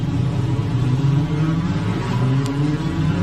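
Formula 4 race car accelerating out of the Macau Grand Prix hairpin, a steady mid-pitched engine drone and rumble heard from a distance, moderately loud, without talk.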